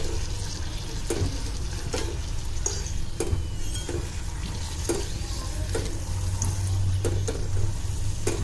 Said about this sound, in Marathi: दोन्ही बाजूने मस्त फ्राय झाली आहेत।